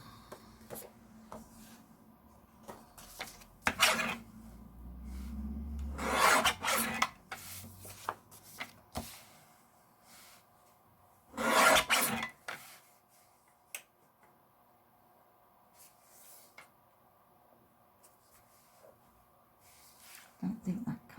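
Card or paper being trimmed down to fit border hot foil stamps, heard as a few short scraping, rasping cuts spaced apart, fairly close and quiet, with faint low voice in between.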